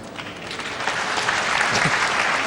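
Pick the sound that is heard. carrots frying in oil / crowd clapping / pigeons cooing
crowd clapping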